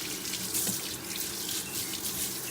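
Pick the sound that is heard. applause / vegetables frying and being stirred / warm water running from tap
warm water running from tap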